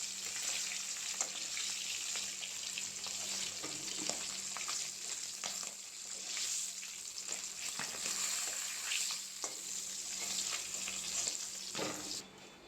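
Fish frying in a pan gives a steady, faint sizzle with soft crackles and occasional stirring scrapes, continuous and close with no voices.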